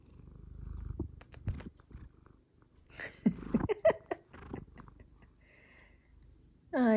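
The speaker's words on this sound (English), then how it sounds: "Can you hear the purrs?" A house cat purring close by, faint and low, broken by soft ticks and rustles, with louder bumps and a brief sharp noise near the end, no speech.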